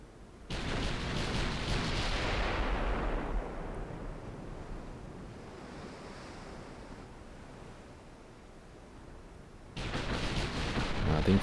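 14-inch naval guns firing in a naval warfare video game, a loud booming blast that decays into a long rumbling roll, then a second heavy report near the end.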